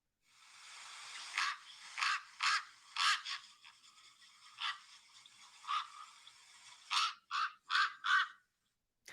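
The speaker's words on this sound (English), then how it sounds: "I don't know if you know what a raven sounds like, but here is a brief clip." A series of harsh, croaking raven calls, loud and close, some spaced apart and others in quick bursts of three or four, with quiet gaps between.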